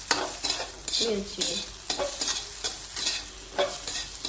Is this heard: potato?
yes